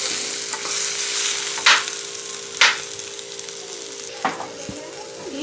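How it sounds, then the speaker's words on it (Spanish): Half an onion, a garlic clove and a little oil sizzle in a pan with a steady bright hiss. A few sharp clinks and scrapes of a utensil stirring stand out above it. "La voy a freír un poquito y ya después lo voy a licuar"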